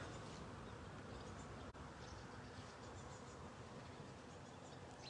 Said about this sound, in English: I don't know if you can hear the humming of the bees